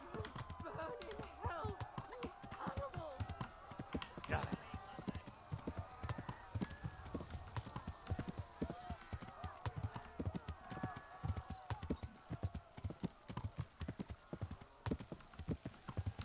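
Horse hooves clip-clopping at a fast gallop in the medieval video game Kingdom Come: Deliverance, a dense continuous rhythm of hoofbeats up close with faint whinnies, overlaid with someone talking excitedly.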